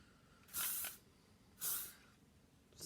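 Hairspray misted onto 1940s Victory Rolls in two short hissing bursts about a second apart, close and soft against a quiet background.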